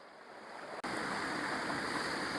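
Rushing water from a woodland waterfall and stream, a steady broadband roar with no voices, briefly cut by a short dropout before resuming at full strength.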